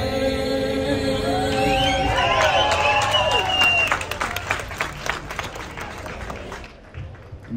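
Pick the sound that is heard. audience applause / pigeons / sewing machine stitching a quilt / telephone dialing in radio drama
audience applause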